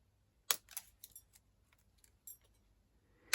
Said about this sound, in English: if you've got some old scissors, just snip off the ends